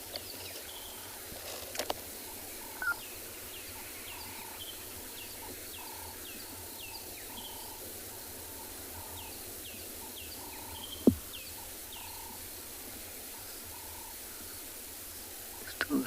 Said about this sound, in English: Still the same doves, a couple of babblers calling.